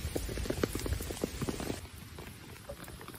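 Steady rain patters over the grounds of Gilsangsa temple in Seongbuk-dong, Seoul, a dense even hiss with scattered close drops. The sound grows a little thinner and quieter toward the end.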